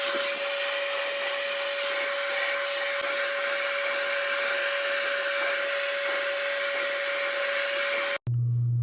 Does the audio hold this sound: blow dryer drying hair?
yes